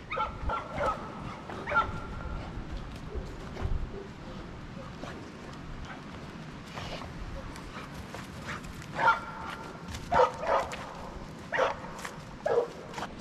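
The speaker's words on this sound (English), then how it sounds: "One of my new dogs that's here to train." A newly arrived dog in for training gives intermittent yips, short barks and whimpers, moderately close over a low background murmur, with the busiest bursts near the end.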